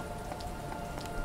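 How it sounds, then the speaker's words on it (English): Steady rain falls in the video game Mr. Prepper, an even patter of drops striking a surface with scattered sharper taps, moderately loud and continuous with no voices. "It's raining."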